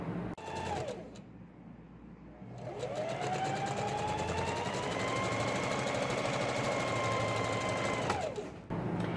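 Sewing machine stitching the side seams of girls' shorts, running in a short burst, pausing, then a long steady whirring run of several seconds close up, with no talking.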